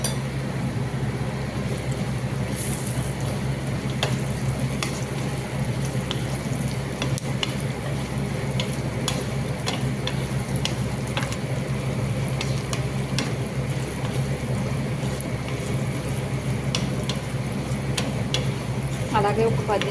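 Potato pieces frying in a pan with a steady dense sizzle, punctuated by scattered clinks and scrapes of stirring, continuous and close throughout.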